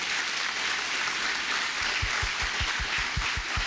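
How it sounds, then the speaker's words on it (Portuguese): A church congregation applauds during a sermon, a broad steady wash of clapping with rhythmic low thumps in the second half, no voices over it. "Aplauda bem forte o Senhor"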